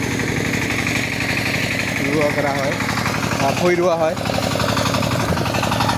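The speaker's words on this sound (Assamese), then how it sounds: "ট্ৰেক্টৰ দি হাল বৈ আছে" A tractor ploughs a village field with a rapid, rattling diesel chug that stays loud and constant throughout. A person talks over the engine.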